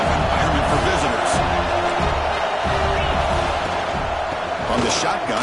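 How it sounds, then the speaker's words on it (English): Stadium crowd noise from the NCAA 26 college football video game, a steady dense roar of a big crowd with occasional swells of cheering, underneath a commentator talking throughout. "Listen to the crowd energy here in the early going."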